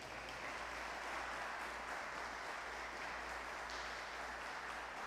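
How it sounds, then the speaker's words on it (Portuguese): Church congregation applauding, a dense, even wash of clapping that holds steady for several seconds, moderately distant and without talk over it. "Dê uma salva de palmas para Ele."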